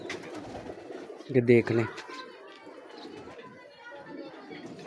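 Field pigeons kept as pets coo in a burst lasting about half a second in the middle of the clip, loud and close, while someone speaks briefly near them over low background noise.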